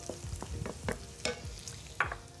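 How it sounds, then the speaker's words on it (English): Onions and minced garlic sizzle softly in olive oil and butter in a pan, with a low steady fry broken by a few sharp clinks and stirring scrapes, close by but quiet. "So these onions are sizzling beautifully, you can see that. I was cooking them in a mixture of olive oil and butter."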